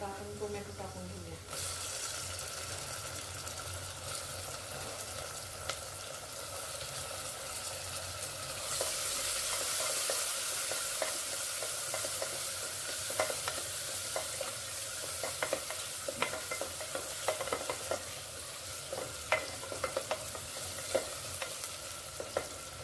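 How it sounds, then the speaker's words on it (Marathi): Onions and tomatoes fry and sizzle in a pan while a utensil stirs and scrapes through them. The sizzle is steady and fairly quiet, and sharp clinks from the stirring break through it repeatedly near the end. "आता आपण टोमॅटो टाकून घेऊया."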